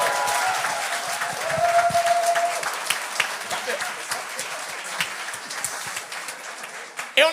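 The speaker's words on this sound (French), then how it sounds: "Bravo, applaudir Sam!" Applause from a comedy show audience rolls through the room, a lively crowd clapping and cheering at moderate volume, with a few shouted voices over it and a brief loud burst at the end.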